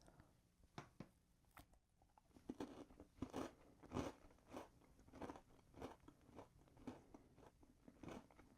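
Reese's peanut butter animal crackers bitten and crunched up close, a string of about ten sharp crunchy bites and chews spaced roughly half a second to a second apart, alone without talk.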